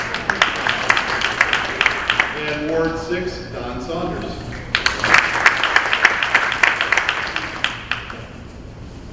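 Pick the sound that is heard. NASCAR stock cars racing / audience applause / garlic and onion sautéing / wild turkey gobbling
audience applause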